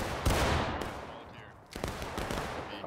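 Musket fire crackles in the video game War of Rights, with several rapid overlapping shots and a second ragged burst later, heard fairly close amid a noisy battlefield.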